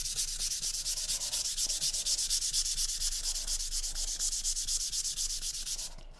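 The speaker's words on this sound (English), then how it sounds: "So I have a small sanding sponge." Steady, rapid rasping of a sanding sponge rubbed back and forth on wood, close and continuous for several seconds, stopping abruptly at the end.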